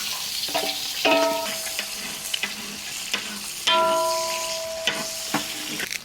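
Shallots and fenugreek seeds fry in hot oil for a prawn and mango curry, giving a steady close sizzle broken by clanking stirs and a few bright metallic scrapes of a utensil against the pan.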